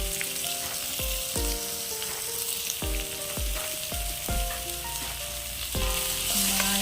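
Crushed chili fries in hot oil in a pan, a loud, constant sizzle broken by a series of regular thuds and clanks as it is stirred, with a tonal ringing that has a musical quality layered throughout.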